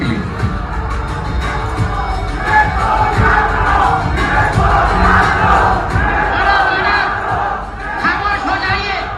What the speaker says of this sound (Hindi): देखना कितनी भीड़ जमा है इसके लिए।